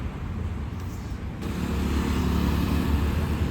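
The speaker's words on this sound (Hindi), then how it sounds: "पीछे ट्रैफिक और ट्रैफिक का अच्छा खासा नॉइस आ रहा है।" Steady low rumble of road traffic outdoors, with passing cars and engines blending into a continuous wash of noise that grows slightly louder partway through.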